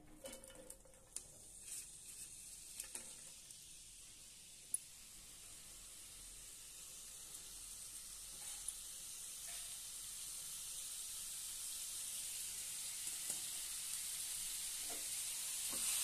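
Thinly sliced potatoes with cumin seeds frying in hot oil in a home kitchen pan, a faint, steady sizzle and hiss with occasional small pops and spatters, gradually growing a little louder.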